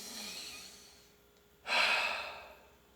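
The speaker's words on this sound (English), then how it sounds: "Take a big breath and then a big audible exhale." A single big audible exhale in a breathing exercise, a soft breathy rush that surges in at once and trails off slowly, heard close and alone after a quieter earlier breath.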